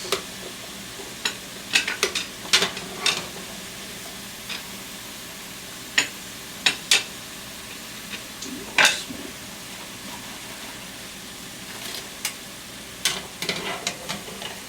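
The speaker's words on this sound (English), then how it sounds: "we're still frying up these green bananas" Green bananas fry in hot oil with a low steady sizzle, broken by scattered sharp clicks and scrapes of a utensil against the pan, close and fairly quiet, with no talk.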